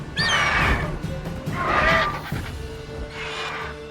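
Three loud, drawn-out neighs from a horse in The Witcher video game, each a wavering shrill whinny, the third a little quieter, over quiet game ambience.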